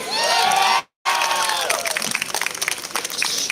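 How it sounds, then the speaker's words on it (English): An audience at a handloom expo concert claps and cheers loudly for a live music band, with whoops and shouts over dense applause, then a brief dropout of silence before the clapping and cheering continue. "can we have them a big round of applause once again?"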